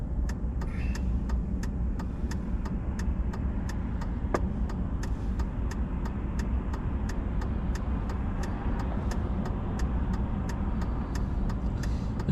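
Truck engine droning steadily while driving on a windy day in Minot, North Dakota, with a constant low rumble and a faint regular ticking throughout.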